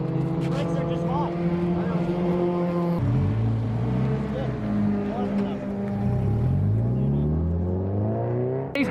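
A race car circles a track, its engine whining and shifting pitch as it passes and accelerates, with people talking nearby over the noise.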